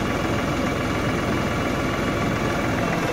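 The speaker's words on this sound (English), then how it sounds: "So pulling it back, you hear the tractor lug down just a little bit" A steady, low diesel tractor engine idles without a break, a continuous rumble with a faint vibrating texture and no voices.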